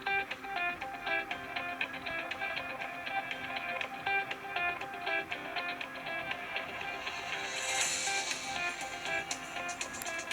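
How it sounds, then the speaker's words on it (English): A standard Verizon ringtone plays on an HTC Trophy phone, a steady melodic electronic tune with layered tonal notes running throughout at moderate volume, no talking. "And this is just the regular Verizon one. I'll play it anyway."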